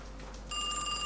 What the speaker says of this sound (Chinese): 谁给我打电话了